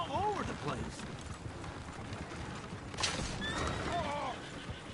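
Horses neigh and whinny in the Red Dead Redemption 2 online game, two or three wavering calls near the start and end, over clip-clopping hooves and a busy outdoor game scene with voices mixed in.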